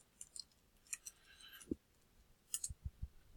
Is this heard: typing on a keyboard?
yes